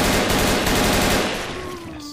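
Rapid automatic gunfire in the video game Left 4 Dead 2, a loud continuous burst of shots that fades toward the end, leaving a faint ringing tone.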